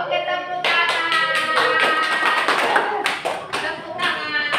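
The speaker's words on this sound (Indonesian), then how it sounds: "Oke, tepuk tangan." A class of students clapping their hands together, dense and loud with a few stronger rhythmic beats, steady for several seconds in an Indonesian classroom lesson, with voices mixed in.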